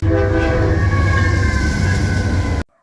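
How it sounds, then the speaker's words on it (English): A loud, steady train horn blares continuously for a couple of seconds, close by, then cuts off abruptly, with the rumble of the passing train underneath. "really friendly engineers there like that can give you pretty nice horn salutes"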